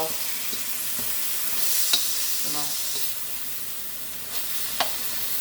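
Food frying in a pan for a homemade hibachi dinner sizzles steadily up close, with soft scraping and clinking from stirring and a few brief spatters.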